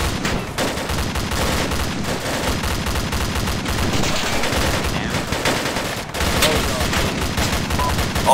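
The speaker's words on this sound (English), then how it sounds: "we're taking fire" Sustained gunfire in a military video game, with rapid shots blending into a dense, continuous roar of weapons fire that stays loud and unbroken throughout.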